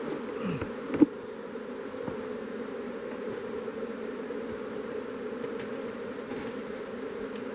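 A steady, droning buzz of many honey bees at a hive, continuous throughout with a single soft knock early on.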